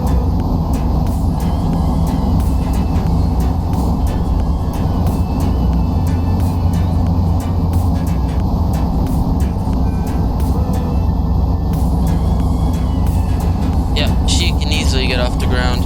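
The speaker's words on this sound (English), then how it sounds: "Full afterburner." An F/A-18 jet at full afterburner on takeoff in Flight Simulator 2020 gives a loud, unbroken roar that holds steady throughout and rises in intensity near the end.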